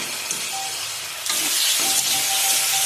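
Potatoes being sautéed with tomato and spices in a pan, a loud continuous sizzle and hiss that swells partway through, with faint stirring scrapes and no talk.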